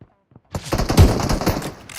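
Gunfire in PUBG Mobile, a quick burst of rapid shots right after a short silence, loud and close, followed by a spoken exclamation.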